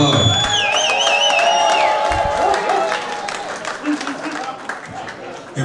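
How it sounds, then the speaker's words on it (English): Applause and scattered whoops from guests at a pre-Valentine's dinner and dance, mixed with voices and a sung or whistled melodic line early on, thinning to chatter later. "I would love for everyone to give a round of applause to Mr. Earl Boyd for giving us the 13th edition of To Her With Love."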